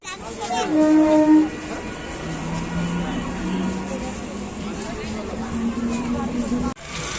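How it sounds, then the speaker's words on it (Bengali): A Gede local train stands at a railway station, its horn sounding loud and near at the start, with a low engine drone below a busy platform crowd chattering throughout. "আমাদের গেদে লোকাল দাঁড়িয়ে আছে"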